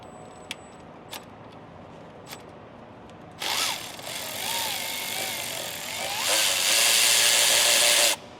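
A power tool on a Ford 6R140 transmission spins out the 8 mm bolts holding the filter, with two close, loud whirring bursts, the second longer, after a quiet stretch with a few faint clicks.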